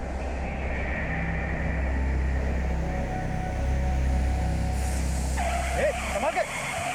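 A police vehicle swerving on a road strewn with nails, its engine droning steadily before tires skid and squeal near the end, with voices talking over the engine noise.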